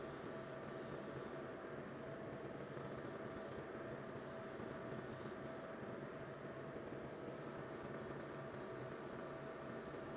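A continuous hiss of an airbrush spraying black paint on a 1/24 Tamiya Skyline GT-R scale model, with the airflow cutting in and out several times over a steady background drone.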